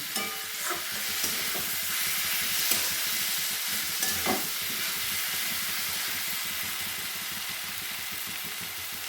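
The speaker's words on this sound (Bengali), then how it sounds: "পটল আলু যে ভেজে রেখেছিলাম এগুলো আমি দিয়ে নিলাম দিয়ে এই মশলাগুলোর সঙ্গে ভালো করে আমি কষিয়ে নেব" Fried pointed gourd and potato pieces sizzle steadily in a pan with spices, a continuous close hiss broken by scraping and clinking as they are stirred.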